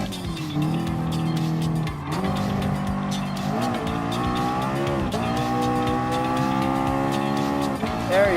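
A race car engine in Gran Turismo Sport is held under throttle, the motor droning and rising in pitch through gear changes, with brief tire squeal. It stays loud and steady throughout.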